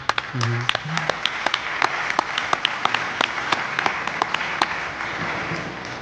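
An audience applauds at a podcast event in Zamora, steady clapping filling the room at moderate volume for several seconds, with a brief voice at the start.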